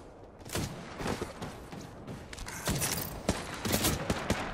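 Rapid bursts of gunfire crackle in an Apex Legends match, dense overlapping shots and impacts coming in uneven volleys, loud and close without talk.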